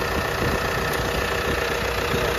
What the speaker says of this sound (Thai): โอ้โหดู เคเลยเสียงเครื่องเสียงดังฟังชัด